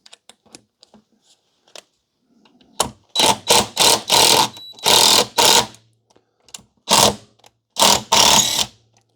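A DEWALT impact driver drives a Phillips screw with a #2 torque bit in a string of about seven loud, rapid rattling bursts, separated by short pauses, after a few faint clicks.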